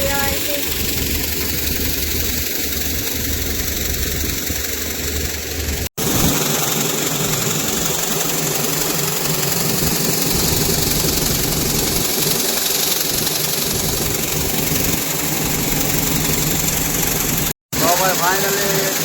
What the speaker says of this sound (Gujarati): ફાઇનલી મિલર ચાલુ થઈ ગયું છે મસ્ત મજાનું ને જો દળનું થાય છે